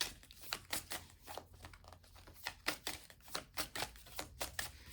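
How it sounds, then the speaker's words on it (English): A brand-new deck of playing cards is shuffled in quick riffling bursts, each a crisp papery flutter, repeating many times at close range in a quiet room. "I want to make sure I shuffle them good."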